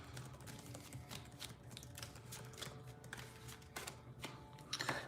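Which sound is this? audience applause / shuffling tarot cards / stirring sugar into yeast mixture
shuffling tarot cards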